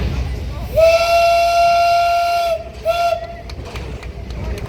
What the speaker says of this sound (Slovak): Kačenka sa nám pootáča niekoľkokrát a možno nám aj zapíska 310.